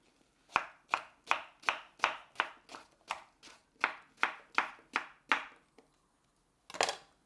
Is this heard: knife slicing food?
yes